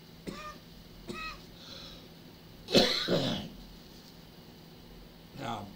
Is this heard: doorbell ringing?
no